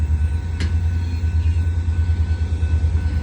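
Three EMD diesel locomotives give off a heavy, continuous low rumble at a train-watching spot in Paducah, Kentucky, loud and unbroken, with a brief sharp click and faint higher tones riding over it.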